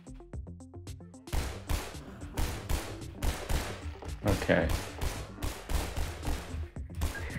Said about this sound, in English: he can hear the gunshots outside